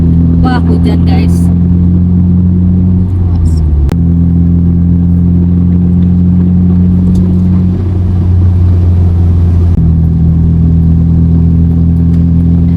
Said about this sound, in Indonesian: bisa didengarkan itu suara knalpotnya benar-benar masuk ke dalam kabin banget